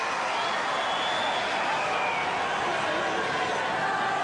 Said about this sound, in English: this crowd on its feet to salute both players